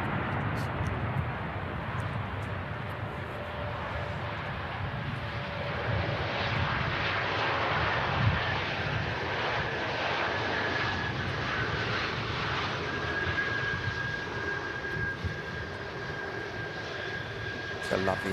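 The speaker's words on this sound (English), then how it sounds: "It's a lovely aircraft, that, isn't it?" A plane's engines rumble and whine steadily at Manchester Airport, a broad continuous roar with a rising tone as the aircraft passes at moderate distance, sustained throughout.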